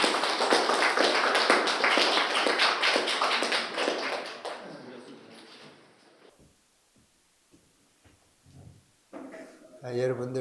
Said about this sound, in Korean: 뜨거운 박수로 우리 교수님 환영해 주십시오